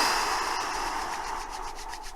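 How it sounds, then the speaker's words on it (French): Hands rubbing together briskly during a self-massage meditation, a close, soft, continuous swishing friction with faint rhythmic strokes, heard alone. "Expire, on frotte davantage les mains."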